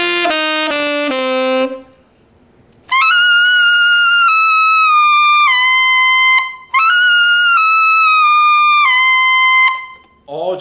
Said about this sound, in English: So I'm gonna start on the double altissimo G and then work my way down.